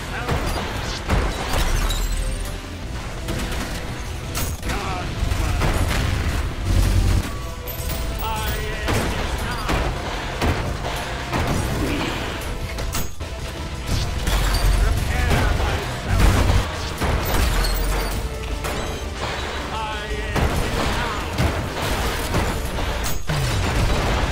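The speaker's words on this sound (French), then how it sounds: "On va recharger le fusil à pompe là." A pump-action shotgun in a video game is reloaded and fired amid a constant din of gunfire, blasts and clattering mechanisms, with a voice talking over the loud battle.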